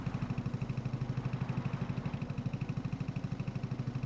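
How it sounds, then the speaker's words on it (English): A vintage tractor engine in Farming Simulator chugs steadily while driving into a lake, a loud, rhythmic low thumping putter repeating evenly throughout, with no talking. "Hope this isn't too deep for my tractor."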